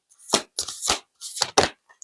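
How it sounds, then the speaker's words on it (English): Thick playing cards are shuffled in four quick riffling bursts separated by short silences, crisp and close. "Just mixing them because I feel like they get sometimes very hard to shuffle"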